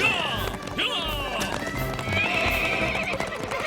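A cartoon racehorse gallops with rapid clip-clop hoofbeats and lets out loud whinnying neighs during a race, with voices talking over the steady, close hoof rhythm.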